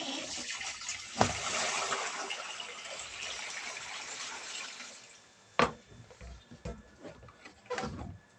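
Water poured by hand into a washing machine being serviced, a steady broadband splashing rush with a few sharper splashes and knocks, close by with no talk.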